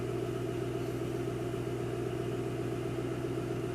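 A car engine idles steadily during a cold warm-up after winter storage, an even, continuous mid-pitched rumble that holds unchanged throughout, close by and with no talking.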